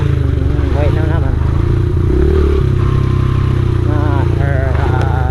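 A Honda XR 70 R pit bike engine buzzes loud and close, its small single-cylinder note rising and falling with throttle changes and some rattling clatter, while a person talks over it.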